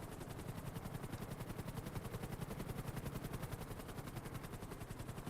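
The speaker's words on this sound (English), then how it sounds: "I don't know why we have so many helicopters." Helicopters flying in the video game GTA during a race formation lap, a steady fast rotor chop droning loudly and continuously without a break, with no talking.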